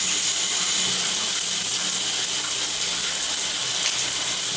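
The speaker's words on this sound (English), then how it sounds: "so I got water coming out" Water runs steadily from a shower valve during installation of its handle, a continuous broadband hiss and gush that stays loud and even throughout with no talk over it.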